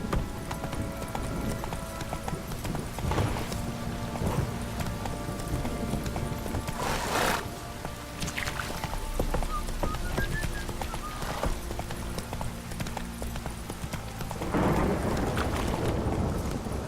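Roach the horse gallops in The Witcher 3, hooves beating out a steady, moderately loud clip-clop rhythm throughout, with faint game ambience and occasional louder bursts behind it.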